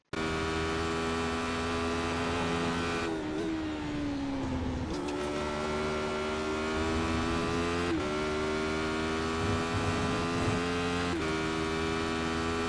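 A Radical SR8 race car engine drones loud and steady around Silverstone in a racing sim, its pitch dipping under braking and climbing again as it accelerates, with no voices.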